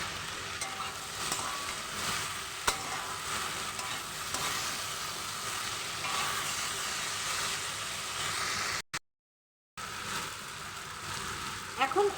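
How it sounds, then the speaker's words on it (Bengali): Onion and tomato fry in a pan with a continuous close sizzle and some stirring scrapes. A brief dropout to silence comes near the end before the sizzle resumes. "পেঁয়াজটা দিয়ে ভালো করে নেড়ে চেড়ে এখন দিয়ে দেবো আমি অর্ধেক টমেটো"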